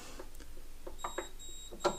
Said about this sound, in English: Audible beeping tone tells us there's an electrical problem there somewhere.